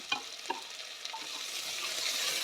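Carrot, tomato and green chillies sauté for vegetable kurma in a steady bright sizzle, with a few quick stirring scrapes at the start before the frying hiss settles and builds slightly.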